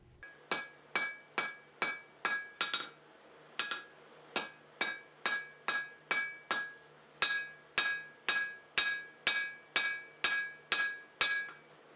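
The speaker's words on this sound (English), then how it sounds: "I get all my aggressions out in one day, beating something up with a hammer and making something useful at the same time." Blacksmith's hammer striking metal in a steady run of sharp, ringing blows, about two per second, with short pauses between bursts, close and loud with no talk.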